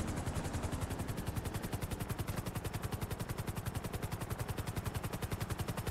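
A helicopter in the video game GTA V, its rotor chopping in a fast, steady, even beat that stays loud and close throughout with no voices.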